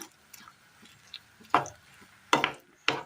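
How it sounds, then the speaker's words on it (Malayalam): A spoon stirs soya chunks with turmeric and a little water in a cooking pan, giving three short scraping clatters spaced about a second apart with quiet pauses between. "നന്നായി ഒന്ന് ഇളക്കി കൊടുക്കാം"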